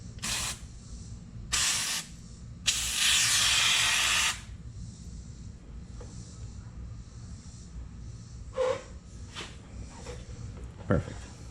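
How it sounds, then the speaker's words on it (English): Brake parts cleaner sprays onto a Subaru Forester brake rotor in several hissing aerosol bursts, the longest lasting about two seconds, with quiet gaps and light workshop handling sounds between them. "Just use some brake parts cleaner."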